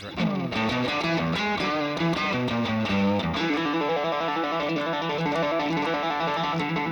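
A Stratocaster on its neck pickup, driven through a King Tone Soloist overdrive pedal, plays a dense, sustained lead line of bent and picked notes at steady loudness, with a brief spoken word over the top.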